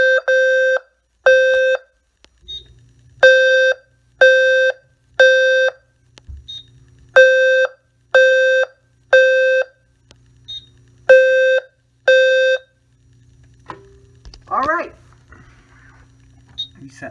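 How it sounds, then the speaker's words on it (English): A System Sensor low-frequency sounder smoke detector under alarm test, loud and close, sounds repeating groups of three short, evenly spaced tonal blasts separated by pauses. After the final group the beeping stops and a voice speaks briefly. "let's test this smoke detector"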